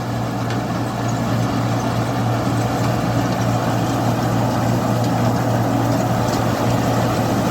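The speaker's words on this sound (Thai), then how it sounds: "ต้องเร่งเครื่องช่วยหน่อยนะครับ" A rice harvester engine runs hard during a flooded Buriram rice harvest, a steady loud drone with a strong low hum holding constant throughout, no voices over it.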